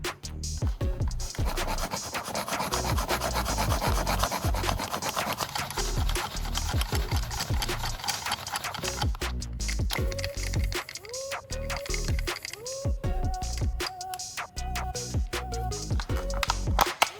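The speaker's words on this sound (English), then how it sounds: "After sifting the sand," Sand being sifted produces a dry, close scratching and rasping texture with irregular gritty taps, continuing throughout at moderate level.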